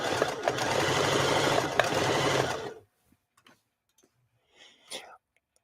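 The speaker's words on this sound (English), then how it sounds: "Let's just start sewing and see if we get contact." A sewing machine stitches steadily for about three seconds, close and loud, then stops, leaving quiet room sounds and brief faint noises.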